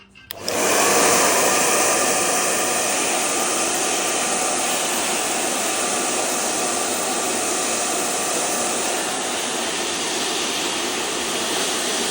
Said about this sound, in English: We can do this by using a heat gun or a hair dryer.